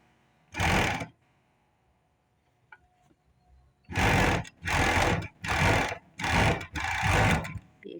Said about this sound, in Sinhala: අපිට ඕලොක් මැෂින් එකේ ඕලොක් කරගන්න ඕනේ